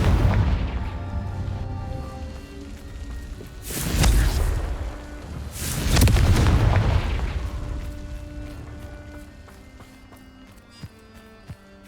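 Confringo fire spell explosions in the game Hogwarts Legacy, two heavy booming blasts a couple of seconds apart over a musical score, each swelling and then rumbling away into a soft backdrop.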